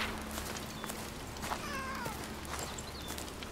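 A cat meows in the video game Blacktail, a few faint, short rising-and-falling cries over a steady low background hum, with no speech.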